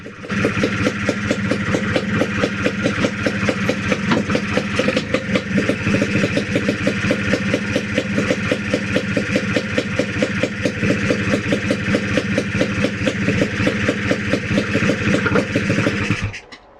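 A Lambretta scooter engine ticks over steadily at close range, a fast regular putter with slight clatter, before cutting off abruptly near the end; no speech is heard.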